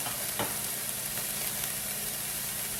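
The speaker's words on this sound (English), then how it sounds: "now we're going to throw in our onions and we're gonna cook those down as well" Onions cooking down in a hot pan for breakfast fried rice, a steady dense sizzle with occasional stirring taps, close and continuous, with no voices.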